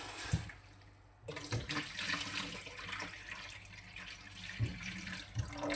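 Tap water runs into a sink while a finger is washed: a steady splashing stream starts after a brief quieter moment and continues with a few soft knocks and bumps.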